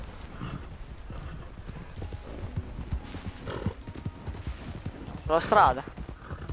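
Horse hooves clip-clop at a gallop in Red Dead Redemption 2, steady and fairly close, with a short whinny near the end and a voice speaking over the hoofbeats.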